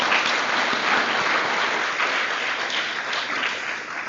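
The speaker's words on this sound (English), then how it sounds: "Let's give them another round of applause" Dense, steady applause from a commencement ceremony audience, loud and sustained throughout with no voices standing out.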